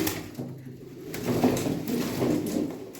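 Tumbler pigeons in a loft coo softly and repeatedly, a low rolling murmur close by with faint shuffling and no voices.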